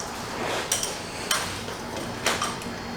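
Metal taps of a hammer striking a chisel while replacing a strut on a 2004 Hyundai Santa Fe, three sharp, fairly close knocks spaced about a second apart over background noise.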